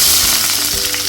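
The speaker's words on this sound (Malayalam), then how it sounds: "എണ്ണ ചൂടായതിലേക്ക് നമ്മൾ എടുത്തു വെച്ച സവാള ഇട്ട് കൊടുക്കുകയാണ്." Sliced onions hit about four teaspoons of hot coconut oil in a pan, making a loud, dense, continuous sizzle that stays close and steady without any talking.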